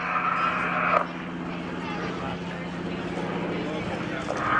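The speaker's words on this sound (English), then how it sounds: "We're going to clean it back up just to show versatility of this old airplane" A steady propeller-engine drone from an old airplane flying at the NAS Oceana airshow, fairly loud and continuous, with a brief shift in tone near the start and end.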